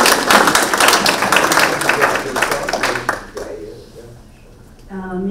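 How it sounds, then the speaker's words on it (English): Audience applause for a speaker at a business forum, dense clapping for about three seconds before fading out, then a voice begins over the quiet. "let's give John a big round of applause"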